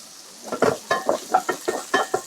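Garlic, onion and ginger sizzle in hot oil while being sautéed for pork kinamatisan, with a spatula stirring in rhythmic scrapes against the pan about eight times, close and clear.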